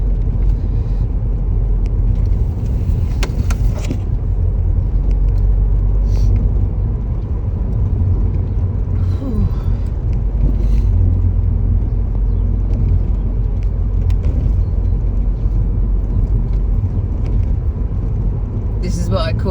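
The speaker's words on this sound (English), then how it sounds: "This is what I call an old-fashioned Sunday drive." Car on a quiet country road on a Sunday drive, a steady low engine and road rumble throughout, with a person talking over it.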